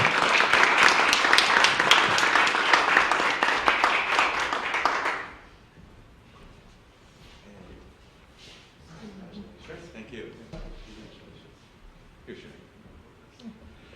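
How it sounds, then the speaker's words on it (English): An audience at a county freeholders presentation applauds guests invited to the podium, a loud burst of clapping for about five seconds that cuts off abruptly, followed by quiet room noise and faint murmurs. "please give them a round of applause"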